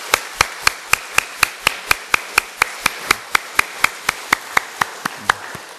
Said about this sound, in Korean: 우리 뜨겁게 우리의 박수로 한번 우리 자녀들 축복 한번 하십시다